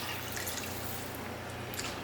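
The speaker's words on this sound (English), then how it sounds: "At this point is where I'm going to go in with hot water." Hot water pours steadily into a pot of seared beef for a curry, a soft continuous splashing trickle close by with no talking.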